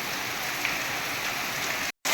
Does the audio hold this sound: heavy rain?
yes